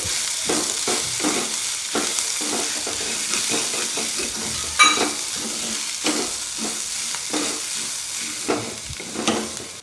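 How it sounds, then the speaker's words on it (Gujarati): Spatula strokes stir a pea mixture with coriander in a hot pan, producing continuous close sizzling and frying with a rhythmic scrape of repeated stirring throughout. "હવે બધું સારી રીતે મિક્સ કરી લઈએ"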